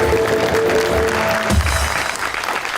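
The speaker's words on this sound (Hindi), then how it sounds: "तालियां" Studio audience applauding during a televised celebrity interview, a dense steady wash of clapping at close range that holds for a few seconds and thins slightly toward the end.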